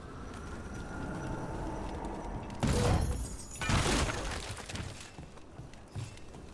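Bricks smashed to pieces in the Dragon Age: The Veilguard video game, two loud crumbling bursts of breaking masonry a second apart over a steady ambient game background.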